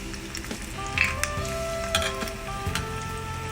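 Sabudana tart frying in hot oil for a fasting-day dish, giving a steady close sizzle with small bubbling crackles and faint tapping of a spoon throughout.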